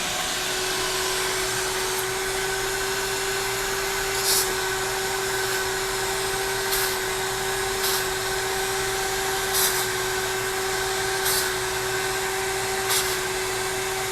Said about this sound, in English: hit it with some walnut media.